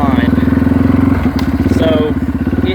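A 1997 Yamaha Timberwolf 250 quad ridden up close, its single engine pulsing in a steady, rapid loud throb that briefly eases and then picks back up, with some clatter over the exhaust note.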